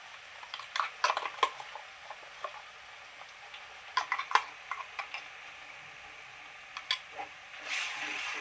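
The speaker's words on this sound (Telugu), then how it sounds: "ఇది బాగా వేగనివ్వాలి మంచి వాసన వచ్చేంత వరకు" Coconut paste and ginger fry in a pan for chicken curry under a faint, steady sizzle, with sharp spoon scrapes and taps coming in short clusters.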